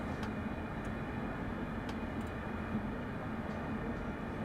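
An EMU electric multiple unit slowing down on the late-night Glasgow to Dunblane run in a train simulator game, giving a steady, even rumble of running gear with faint ticks and clicks over it.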